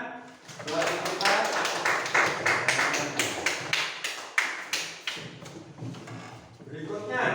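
Applause in a primary school classroom, many children clapping in loud, uneven bursts with sharp individual claps that rise and fall over several seconds before fading.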